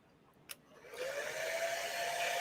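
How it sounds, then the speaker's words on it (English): Hair dryer switched on and blowing steadily on glue on a homemade costume, a loud broadband whoosh with a faint whine that starts after a brief click and continues alone. "I'm going to take the hair dryer to this real quick."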